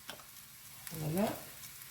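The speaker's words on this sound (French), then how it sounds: "Et on remue." A spoon stirs spinach and gouda tart filling in a pan, with a soft scrape and a faint sizzle, heard quietly and close.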